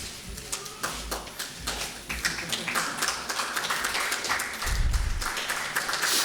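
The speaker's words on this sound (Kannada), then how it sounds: "ಚಪ್ಪಾಳೆ ಜೋರಾಗಿ ಬರಲಿ" An audience claps at a Kannada book release ceremony for a newly launched book, with scattered individual claps building into fuller applause and a few low thumps, moderately loud throughout.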